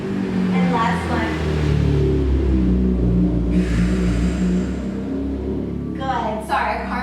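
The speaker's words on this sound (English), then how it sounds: "Sorry, a car drove by." A car passes outside a home garage used as a workout space, its low engine rumble swelling and fading steadily beneath a person speaking throughout.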